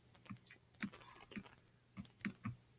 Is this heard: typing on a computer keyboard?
yes